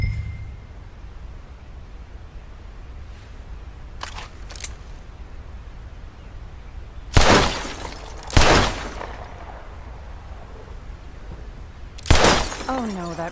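Gunshots in Red Dead Redemption 2 shatter bottles, three sharp loud cracks spaced apart, each followed by breaking glass, with quieter clicks and faint ambient outdoor noise between them.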